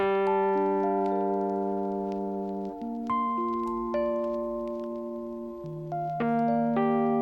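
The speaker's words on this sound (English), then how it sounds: "it's randomizing the velocities of each note within the chord" Sustained synth chords change every few seconds, their notes overlapping at uneven loudness from randomized note velocities, clean and close with no voices.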